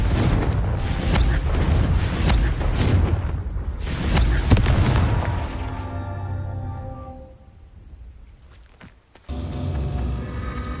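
Confringo blasting spell explosions in Hogwarts Legacy: a dense run of loud, booming blasts with crackling bursts for about five seconds, then a rumbling tail that fades into quieter ringing before a low roar returns.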